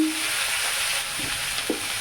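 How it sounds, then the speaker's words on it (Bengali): Pumpkin, chilli and chopped onion fry in a pan with cumin tempering for a chutney, giving a steady, close hiss of oil with a couple of soft stirring knocks and no voices. "এবার দেখতেই পাচ্ছেন এটা ভাজা ভাজা হয়ে গেছে"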